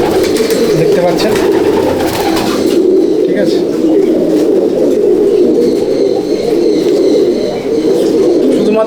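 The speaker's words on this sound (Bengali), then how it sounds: "বন্ধুরা দেখুন খুশিরা আন্দ্রা পায়রা" Andhra pigeons at a loft keep up a dense, loud, continuous cooing chorus up close, with scattered chirps and someone talking briefly over it.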